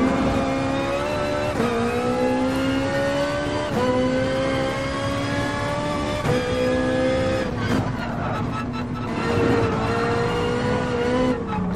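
Race car engines in Gran Turismo Sport on PS4, with a Ferrari, Aston Martin, Viper, Peugeot and BMW among the field, roar loudly and steadily throughout, pitch rising and dipping through gear changes, with brief tire squeal and skids.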